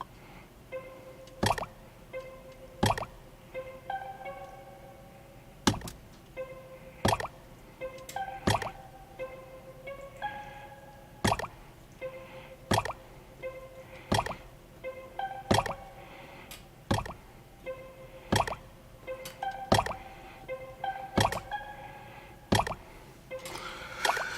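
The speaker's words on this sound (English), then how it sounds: "The water drop sound is kind of dope." Water-drop sound effect used as a percussion element in a music beat, sharp plinking drips repeating in a steady rhythmic pattern over a soft tonal backing.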